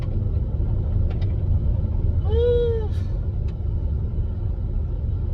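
Car rolling slowly over a rough, damaged road, giving a steady low rumble and road noise throughout, with a brief squeal-like tone near the middle and a short spoken exclamation.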